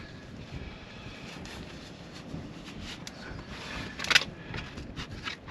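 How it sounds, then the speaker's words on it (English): Strong wind buffeting an outdoor microphone, a steady broadband rush and rumble throughout with a brief sharper gust near the end; no speech. "Holy moly, is it windy here."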